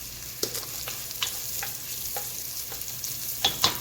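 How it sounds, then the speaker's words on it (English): A chopped shallot fries in a hot pan, crackling in a close, continuous sizzle dotted with small pops and light taps of a utensil, with no voices over it. "I'll tell you the ingredients while the shallot is cooking"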